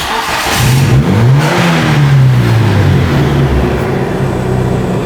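A Fiat Seicento engine runs steadily up close, its pitch rising and falling as it revs, loud and continuous with no talking.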